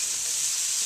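Prawns frying in a pan in a Thai home kitchen give a steady, close hiss of sizzling that runs unbroken and fairly loud, with no talk over it.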